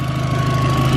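Exhaust of a 2008 VW R32 AWD with a V6 and aftermarket downpipe, a steady, deep burbling drone with a throbbing low pulse, loud and close, with no voices.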